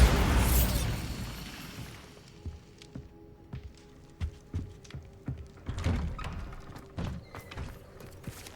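The Bombarda blasting spell goes off in the Hogwarts Legacy video game inside a spider-infested cellar, a loud booming blast that rumbles out over a couple of seconds, followed by scattered thuds and knocks of falling debris.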